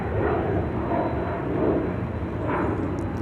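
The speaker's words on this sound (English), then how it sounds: "Spin over here real quick to see a plane taking off over on the west side." A passenger airplane takes off from Dallas Love Field, a broad, steady jet roar heard from a parking garage some distance away, holding loud and even for a few seconds.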